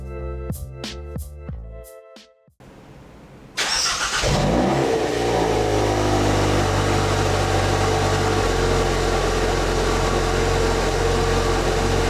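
A Hyundai Kona N engine starts and settles into a steady, loud idle after an intercooler install, with beeping dashboard chimes just before ignition and a continuous close engine drone afterward.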